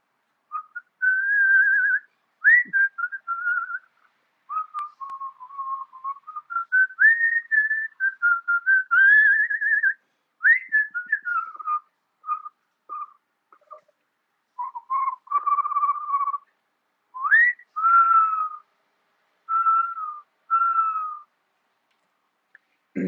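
A person whistles a wandering, melodic tune alone in a quiet room, phrases rising and falling with short breaks between them, close and clear.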